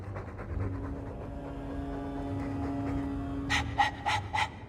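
Dog panting in the video game Dragon Age II: soft rhythmic breathing at first, under a steady low hum, then a few louder, sharper breaths near the end.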